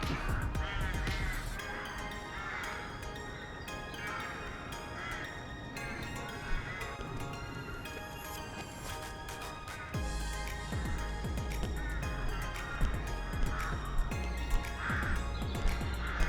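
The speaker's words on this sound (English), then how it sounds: "You can probably hear all the birds." Crows caw repeatedly over a busy chorus of other birds, calls overlapping steadily throughout at a moderate distance.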